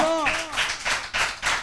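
Congregation clapping loudly at a Telugu church service, a burst of broadband claps under a voice that trails off at the start and keeps sounding over the clapping.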